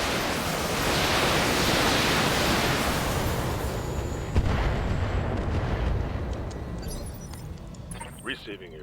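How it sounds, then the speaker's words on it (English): Area-of-effect bomb explosions in the BattleTech video game: a long, rolling roar of blasts that swells and then slowly fades, with one sharper hit in the middle and faint voices over the rumble. "Getting AoE bombs over there."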